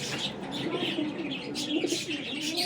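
A female flying pigeon, a Sialkoti and Kamagar cross, coos with soft, low, rolling phrases mixed with faint chirps, close and steady over the whole stretch.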